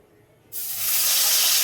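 Whole white eggplants from a home garden drop into hot oil in a kadai, setting off a sudden loud, broad hiss that swells and holds steady without talk.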